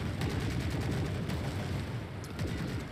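Troops shooting at infantry in the video game The Forever Winter: dense, continuous gunfire with rapid overlapping shots and bursts, loud and steady throughout.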